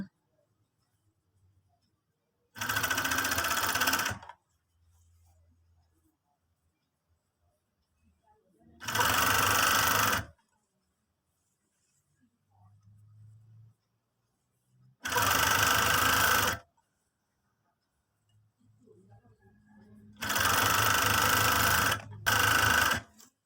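A sewing machine stitches the side seam of a basic T-shirt, running in four distinct bursts of about one to two seconds each, separated by quiet pauses, with a final double burst at the end.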